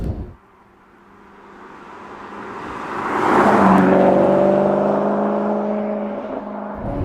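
Maserati GranTurismo MC Stradale V8 with a robotized manual gearbox revving up, a low idle rising into a loud sustained engine howl with whirring tones climbing and settling, no voices.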